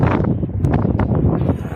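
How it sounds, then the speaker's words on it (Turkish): Strong seaside wind in rainy weather buffets the microphone, a loud, rough, low rumble with gusty fluctuations and no clear pauses. "Şu şekilde arkadaşlar acayip şekilde rüzgar var."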